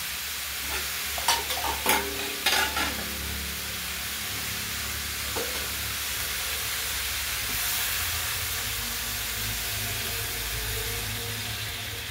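A splash of water hits a hot cooking pan with dal and cabbage, bursting into a loud hiss, then a few scraping stirs before settling into a steady, sustained sizzle and steam close by.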